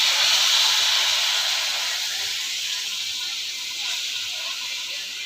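Milk hits a hot pan of roasted semolina with cashews and raisins for rava payasam, a loud steam hiss bursting at once and slowly easing while it keeps sputtering.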